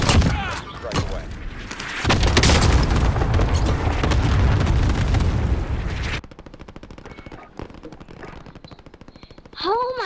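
A precision airstrike pounds the ground in Call of Duty Warzone, a long, loud wall of booming blasts and rapid gunfire for several seconds, then a quieter stretch with scattered shots and a rising whine at the end.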